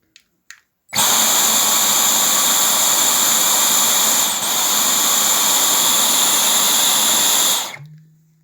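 A Dyson cordless hand vacuum cleaner with an airflow-block fault switches on and runs with a loud, steady high-pitched whine and rushing air for about seven seconds, then shuts off, with a couple of small clicks beforehand.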